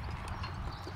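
Team of three horses pulling a plow abreast through a field, their hooves clip-clopping steadily in a quiet, close rhythm with no talk.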